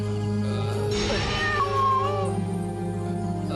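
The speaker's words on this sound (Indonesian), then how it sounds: "Cuma ada kucing hitam di depan pintu." A black cat meows near a front door, giving one drawn-out, rising-and-falling cry close by over a steady background hum.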